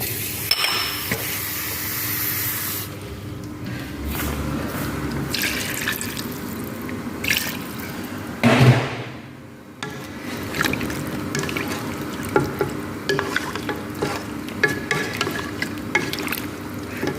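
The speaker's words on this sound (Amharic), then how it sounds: "ትንሽ ስጋው ይብሰልና ከዛ አሁን ውሃ እጨምርበታለሁ።" Water pours into a pot of meat stew with potato, carrot and zucchini for Saudi-style salona laham, a close, sustained splashing and gushing with a short pause partway through, followed by stirring and bubbling.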